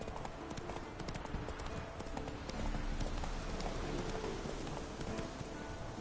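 The horse Roach's hooves clip-clopping in The Witcher 3 video game, a steady rapid rhythm of hoofbeats, close and continuous, with no talk.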